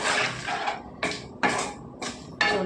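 Prawns and chopped onions stirred together in oil in a cooking pan for a prawn curry: five close, scraping clatters of a spoon against the pan in uneven bursts, no voices.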